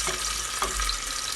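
Steady sizzling of meat frying in hot oil, a continuous crackling hiss with a soft stir partway through, close and moderately loud.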